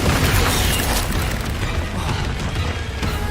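Confringo blasting spell in Hogwarts Legacy: a loud, booming explosive blast with a dense crashing roar that stays strong across the short moment, no voices heard.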